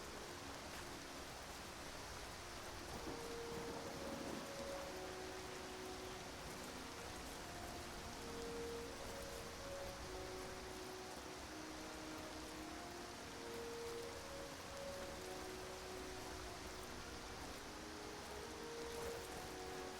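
Steady, soft rain falls in the fantasy video game Skyrim, a continuous hiss with faint tonal ambience drifting beneath it and no voices.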